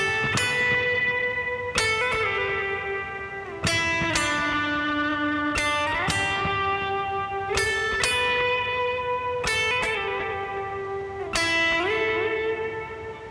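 Electric guitar playing the full solo of a worship song, with sustained ringing notes and bends, strummed or picked phrases restarting about every two seconds, steady and clear with no talking.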